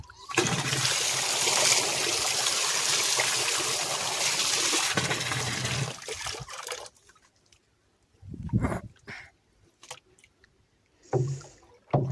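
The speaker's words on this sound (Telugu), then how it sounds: "ఇట్లా పోసుకొని బాగా ఇట్లా నీళ్ళలో బాగా మిక్స్ అయ్యే విధంగా చేసి డ్రిప్ ద్వారా వదిలేయడమే." Water is poured into a container and stirred with a chelated micronutrient mix for drip irrigation of a papaya orchard, a loud continuous splashing pour for about six seconds, then scattered sloshes and splashes.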